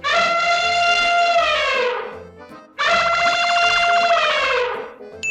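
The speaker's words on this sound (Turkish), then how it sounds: "Bu bir fil sesi." An elephant trumpets twice, each a loud, bright, brassy blast lasting about two seconds with a short gap between them.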